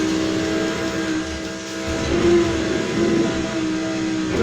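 A 2019 Audi R8 V10 Performance in the Need for Speed Heat racing game accelerates toward top speed, its engine a loud, steady high-rev drone with brief rising pitch swells, and no voices.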